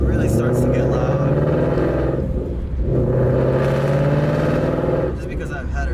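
Ford Mustang with headers and a resonator delete cruising in normal driving, a loud continuous low exhaust drone and rumble with steady engine tone, slight swell around the middle, under faint cabin noise.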